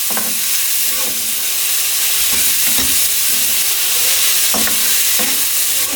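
Onions frying in hot oil for chicken chana, giving a loud, continuous sizzle and hiss with repeated spoon stirring knocks against the pot.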